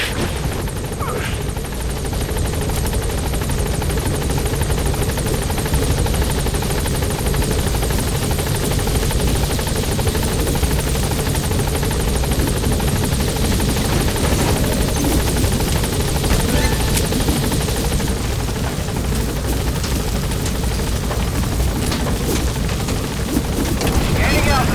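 Helicopter in the video game Metal Gear Solid V, a loud continuous rotor thump and engine roar holding steady throughout, with faint radio chatter and distant impacts underneath.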